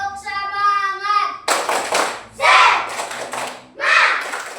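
A classroom of children performs a rhythmic spirit clap chant, a teacher's voice leading before bursts of unison clapping and shouted group chanting in short loud phrases.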